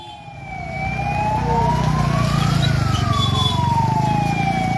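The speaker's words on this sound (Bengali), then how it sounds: "ইতিমধ্যে একের পর এক অ্যাম্বুলেন্স ছুটে এসেছে" Ambulance sirens wail and sweep up and down, loud and close, over a steady rumble of engines and traffic at the site of a head-on collision between two trains in the Rangabari area; one siren seems to follow another.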